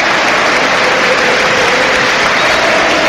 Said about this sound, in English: The Leeds fans stand to applaud and remember one of their own, Robert Hisco.